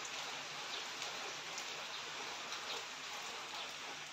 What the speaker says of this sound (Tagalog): Naulan siya.